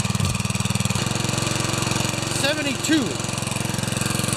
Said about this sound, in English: Those little Kawasaki 1-cylinders are hard to start.